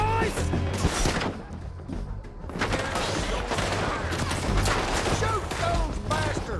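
Gunfight in Red Dead Redemption 2 with a town being shot up, continuous scattered gunshots, crashes and clattering impacts in a busy mix, steady and fairly loud throughout.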